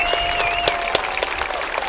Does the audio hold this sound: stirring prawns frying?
no